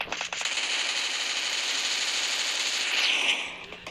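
Rapid gunfire crackles in a long, dense burst for several seconds, loud and continuous, then tapers off at the end. No one speaks.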